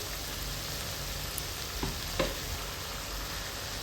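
Dragon chicken frying in a pan as tomato, chilli and soy sauces are stirred through, a steady close sizzle with a couple of soft utensil scrapes.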